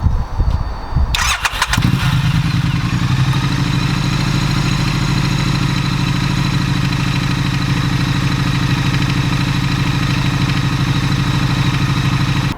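A motorcycle engine cranks and fires after an oil and filter change, then settles into a loud, steady close-up idle with an even rumbling throb.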